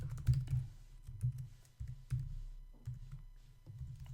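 Close, soft keystrokes on a computer keyboard while SQL is being written, irregular clusters of taps with short pauses between them, in an otherwise quiet room.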